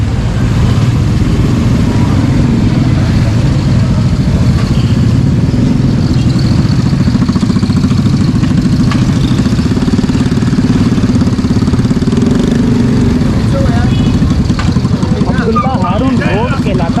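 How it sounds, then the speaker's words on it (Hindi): Motorcycles and traffic at Akbar Road motorcycle market in Karachi, a dense continuous engine drone and idling rumble close by, with voices in the background. "ये पूरा अकबर रोड जो है ना मोटरसाइकिल मार्केट है।"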